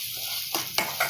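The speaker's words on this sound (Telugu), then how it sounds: "ఇది ఇప్పుడు బాగా వేగాలి" Ground masala paste sizzles in a pan for a fish curry, a dense frying hiss with a few brief scrapes and stirs near the end, no talk.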